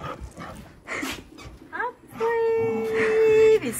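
A puppy gives a long, high, drawn-out whimpering whine close by, with shorter yips and whines before it, mixed with a person talking.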